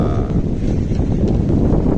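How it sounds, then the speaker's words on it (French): Strong wind on a sailboat at sea, a loud, constant low roar and buffeting rumble close to the microphone, with no talk. "Et puis il y a beaucoup de vent en bas."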